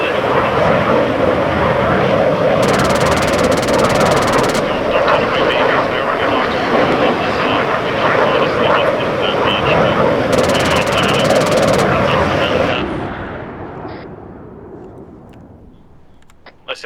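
An AI-controlled military aircraft with a damaged engine in a combat video game, a loud steady engine roar sustained for about twelve seconds before fading away into near silence.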